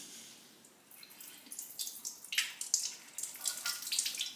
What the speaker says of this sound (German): Gieße ich das Wasser ab